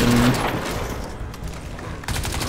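Gunfire from the video game Crysis 2 comes as a dense burst of rapid shots at the start, then a lull of rumbling ambience before more firing resumes near the end, loud and close.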